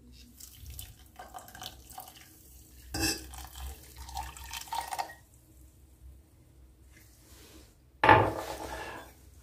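Faint clinks and stirring as 250 ml of hot water is mixed with gelatin in a cup, with a louder splash near the end, close and quiet overall.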